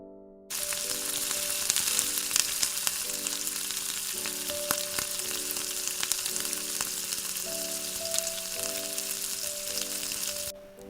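Chilli masala gravy with chopped chilli sizzles and fries steadily in a pan as it is stirred, starting abruptly and holding a loud, close crackle, with a faint tonal hum underneath and no talking.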